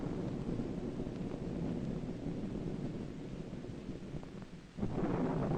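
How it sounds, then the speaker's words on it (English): Deep rolling thunder rumbles on for several seconds, dips briefly, then surges again in a fresh loud roll, with no voices over it. "She's scared of thunder,"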